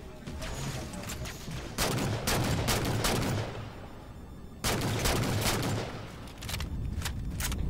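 Bursts of loud gunfire from the Halo 4 video game come in heavy clustered volleys with short pauses between them, close and booming, with no speech.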